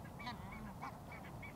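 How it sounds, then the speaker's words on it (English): Barnacle geese calling at a coastal Scottish nature reserve in winter, a few short honking calls scattered over a steady low rumble of wind or distant flock noise. "And at this time of year, there's a very special visitor here, Barnacle Geese."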